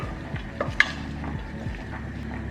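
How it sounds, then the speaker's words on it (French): Garlic and onions cook in a saucepan on the stove, with a gentle sizzle and a few scraping stirs and light clinks of a utensil against the pan, close and moderate. "je mets ma casserole sur le feu"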